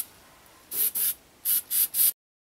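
An airbrush sprays paint onto an airsoft gun during a custom Kryptek camo paint job, in five short, close hissing bursts with brief gaps, then cuts to silence.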